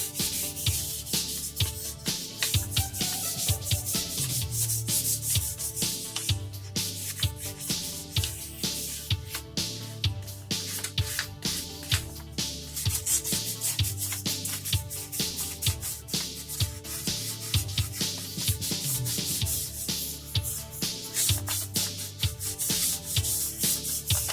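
A guitar body is sanded by hand, giving a continuous run of quick, rhythmic rasping strokes, close and steady with no talking.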